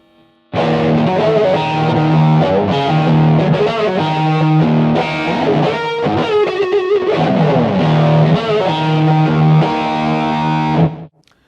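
Electric guitar played through a BOSS GT-1 multi-effects unit with an effect switched on, dialed toward a classic rock tone: a loud, continuous distorted riff with bent notes, ringing out alone before stopping abruptly.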